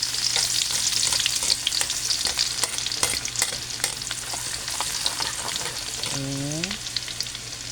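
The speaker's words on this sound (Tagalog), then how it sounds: "mag-isa na tayo ng bawang sibuyas" Garlic and onion sautéing in a pan with fried tofu, a continuous loud sizzle broken by frequent scraping stirs, with a brief spoken word near the end over the frying.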